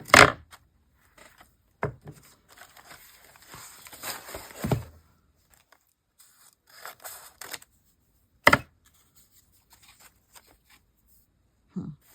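Paper is trimmed for a mixed media art journal, with a few sharp cutting snips and rustles spaced out amid near silence, close and fairly loud.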